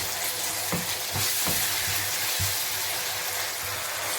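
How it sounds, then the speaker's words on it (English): Plum sauce tipped into a hot pan of chicken shawarma, sizzling and frying loudly throughout, with a few soft stirring knocks and scrapes early on and no speech. "So I'm going to tip in my plum sauce. Plum sauce is going in there."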